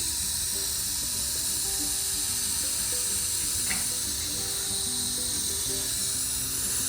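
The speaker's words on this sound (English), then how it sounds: "So all I have to do is just water them carefully." Water runs with a steady hiss and spatter in a home garden while freshly transplanted vegetable plants are watered carefully, continuous and fairly close, with a faint tonal hum and a brief splash near the middle.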